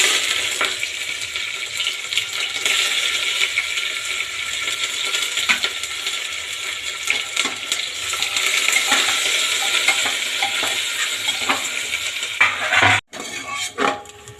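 Onion frying in hot oil with cinnamon for cholar dal, a dense continuous sizzle with scattered clinks of a spatula against the pan, alone and fairly close, cut off abruptly near the end.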